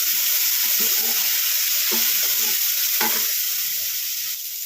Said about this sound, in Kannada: ನೋಡಿ ಫ್ರೆಂಡ್ಸ್ ಹಿಂಗೆಲ್ಲ ಚೆನ್ನಾಗಿ ಫ್ರೈ ಆಗಬೇಕು